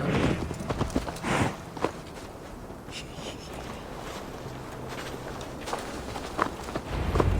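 A horse's hooves clip-clop at a walking pace while ridden in Assassin's Creed Valhalla, quiet rhythmic hoofbeats over a low ambient background with occasional louder thuds.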